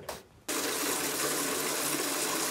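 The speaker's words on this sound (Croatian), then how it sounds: "Sada ćemo staviti vruću vodu i" Hot water from a kitchen tap runs for cleaning, switching on abruptly after a brief clatter and then pouring as a steady, loud, broadband rush with no talk.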